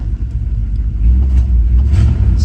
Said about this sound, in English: Still does a weird throttle blip.